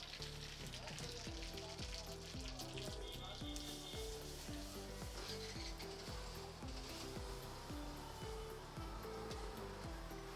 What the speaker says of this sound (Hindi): अब इसमें जीरे का तड़का लगेगा।